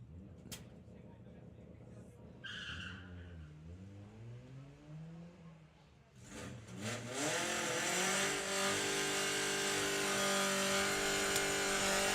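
A VW Lupo and a VW Passat at a VW drag racing event. The engines idle at first, then rev hard and roar loudly as the cars launch down the strip.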